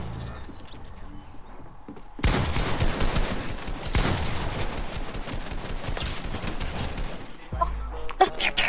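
Sustained rapid gunfire in Fortnite rattles on for several seconds, a dense stream of loud shots that cuts off abruptly, with quieter game sounds and thumps before and after.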